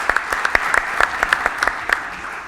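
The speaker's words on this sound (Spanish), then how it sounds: "Un fuerte aplauso para ellos." An audience at a colloquium on forty years of democracy applauds its invited speakers, a short run of crisp, close, individual handclaps at a lively but uneven rhythm.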